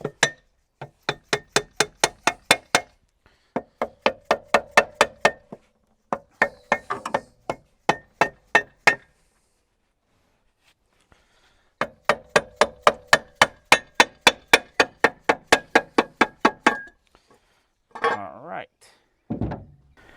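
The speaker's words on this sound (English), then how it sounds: "Couple gentle taps with a rubber mallet usually gets them off." A rubber mallet gives gentle taps to rusty parts of a seized engine: bursts of quick, evenly spaced sharp knocks near the microphone, broken by short pauses, then some brief talking.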